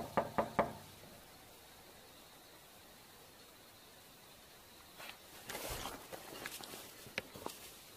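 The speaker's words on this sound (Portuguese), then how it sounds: "Mano, só bate na porta." A hand knocks on a door at a house in Brazil: three quick, sharp raps at the start, then a long quiet stretch. Faint rustling and shuffling sounds follow near the end.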